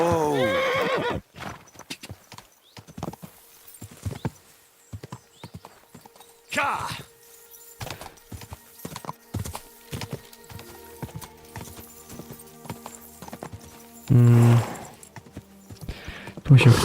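Horse hooves clip-clop in an irregular run of close thuds in a medieval video game, broken by a loud whinny near the start and a neigh toward the end, with a voice speaking intermittently over them.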